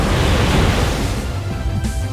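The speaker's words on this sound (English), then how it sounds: "I'm gonna fire off a Waterfall." Waterfall, a water attack in a Pokémon video game battle, crashes as a loud rushing surge of water that fades slightly near the end of a short burst.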